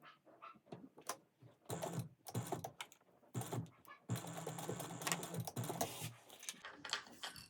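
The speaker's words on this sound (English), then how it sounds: "you're going to sew those together at 1/4 of an inch" A sewing machine stitches fabric pieces together at a quarter-inch seam, running in several short bursts of rapid mechanical whirring separated by brief pauses.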